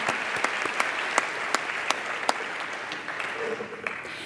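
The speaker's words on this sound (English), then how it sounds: "Can we have a round of applause for our parents" Applause from parents and guests at a summer programs commencement ceremony, a steady wash of clapping with sharp individual claps standing out, fading slightly toward the end.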